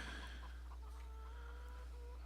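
Chickens clucking in Farming Simulator 17 on a farm at Lawfolds, Aberdeenshire; a steady run of soft, repeated clucks over a constant low hum, fairly faint and without talk.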